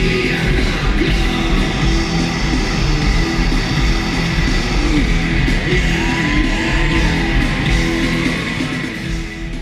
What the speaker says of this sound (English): That primal 1993 Ed scream, which you love to hear